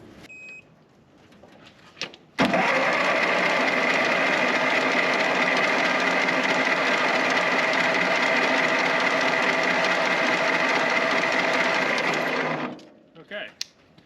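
A Ford 9N tractor engine with a 6-volt system cranks over on a 12-volt battery jumper, a loud, even whirring starter drone running about ten seconds before cutting off, with brief talk around it.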